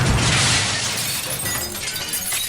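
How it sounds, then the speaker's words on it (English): Shattering glass dome, a loud crashing burst of breaking glass followed by scattered tinkling debris fading over a couple of seconds. "The dome is shattered."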